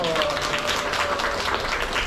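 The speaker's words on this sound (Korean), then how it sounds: "박수 부탁드리겠습니다" Applause from members of a book club meeting discussing Zorba the Greek, a dense, steady burst of clapping in a room that carries on for about two seconds.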